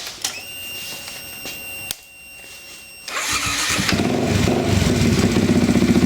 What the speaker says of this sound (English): You want to fire the bike up.